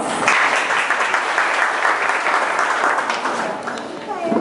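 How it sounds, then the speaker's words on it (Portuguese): A crowd at Vila Paraíso gives a ballet class a round of applause: thick, continuous clapping at fairly close range, easing slightly in the final moments. "salva de palmas"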